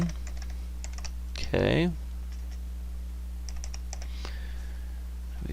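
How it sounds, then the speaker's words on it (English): Typing on a computer keyboard: a few scattered quiet key clicks under a steady electrical hum, with a brief spoken word partway through. "I'm going to type in start simulation"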